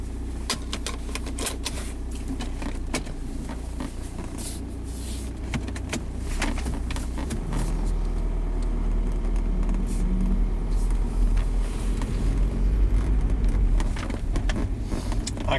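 A 2005 VW Jetta with an 09A automatic transmission drives along, its engine and road rumble growing steadily heavier, with scattered interior clicks and rattles and no talking.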